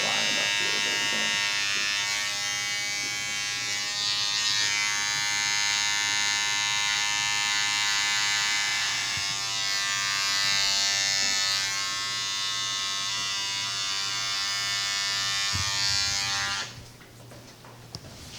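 An electric hair trimmer lining up a haircut buzzes steadily and loudly for about sixteen seconds, wavering slightly as it moves along the hairline, then cuts off, leaving quiet room sound.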